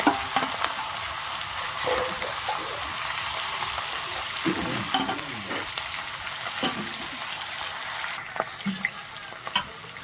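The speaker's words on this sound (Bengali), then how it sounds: "এবার কড়াইতে যে তেল আছে সেই তেলে আমি আবারও যে মাছগুলো ছিল সেই মাছগুলো আমি আবারও দিয়ে দেবো" Fish heads frying in hot oil in a wok, giving a loud, continuous crackling sizzle with occasional clatters of stirring and turning, close up and steady throughout.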